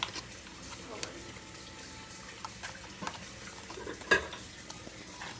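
A spoon stirring and mashing a mixture in a bowl, with soft scraping strokes and a sharper clink near the end, quiet and close, with faint voices at moments.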